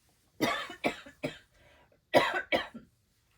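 A close series of coughs: three quick hacks, a pause, then two more, loud and raspy with no speech.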